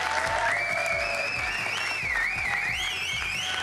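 A crowd applauds and cheers for the 2019 esports WRC rally champion right after the finish. The clapping is steady, dense and loud throughout, with whoops and whistles rising above it.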